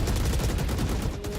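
Dense, continuous rattle of gunfire in a competitive video game match, a wall bang shot through cover, loud and sustained across the short moment with no pauses.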